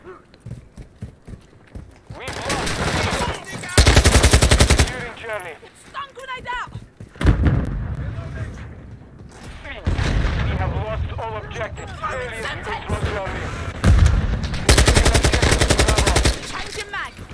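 Repeated bursts of loud automatic gunfire from Call of Duty Modern Warfare II multiplayer, several sustained volleys with short pauses between them, close and dominant, with someone talking in between.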